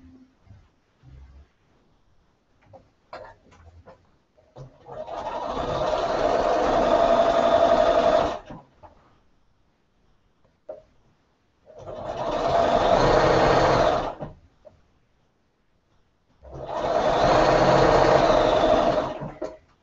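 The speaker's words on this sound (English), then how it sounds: "I'm going to sew this to this and do that." A sewing machine stitches quilt pieces together in three separate bursts of steady whirring, each a few seconds long with quiet gaps between, close and loud with no voices over the machine.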